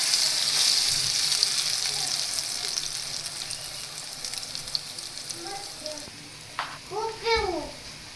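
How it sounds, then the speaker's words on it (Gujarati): Kothimbir vadi, coriander fritters, fry in hot oil in a pan, giving a steady close sizzle throughout with a few brief higher-pitched sounds near the end. "હવે આપણે એક પેનમાં તેલ ગરમ કરી લીધું છે, તો તેમાં આપણે આપણી કોથમીર વડી એડ કરી દેશું"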